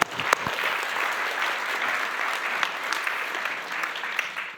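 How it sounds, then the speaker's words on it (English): An audience at an investing event breaks into steady, dense applause that carries at an even level throughout, with a few sharper claps standing out near the start. "Give him a round of applause."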